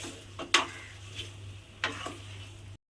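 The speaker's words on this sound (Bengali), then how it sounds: "এবারে সমস্ত কিছু দিয়ে খুব ভালোভাবে মিশিয়ে এটাকে নেড়ে নেড়ে ভালো করে রান্না করে নিতে হবে।" A spoon stirs taro leaf curry in a pan, scraping in two or three short, distinct strokes over a faint background hum, with no voices.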